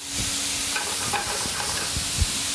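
Steady hiss of mushrooms sizzling in a hot pan, with a few soft stirring scrapes and light clinks, continuous and close.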